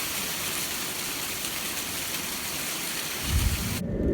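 Hail and heavy rain come down during a garden storm, a dense, roaring patter on surfaces with a low rumble swelling near the end, loud and continuous without voices.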